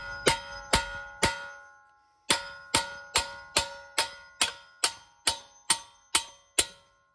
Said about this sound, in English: mallet and let's hammer these out